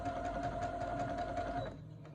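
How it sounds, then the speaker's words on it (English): A serger sewing machine runs a steady, fast whirring stitch along a quilt border for about a second and a half, then cuts off, leaving quiet room tone. "when you're doing the serger stitch that it's going to do a line on one side and a line on the other"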